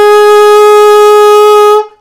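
Alto saxophone sounding a middle F, fingered with the register key: a single even, full-bodied tone held for under two seconds, loud and close, ending abruptly, solo and without talk.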